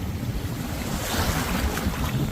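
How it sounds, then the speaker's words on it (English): Steady wind rushes across the microphone on a beach in Aruba while waves wash and surf continuously nearby, loud and unbroken, with no voices. "the wind is picking up"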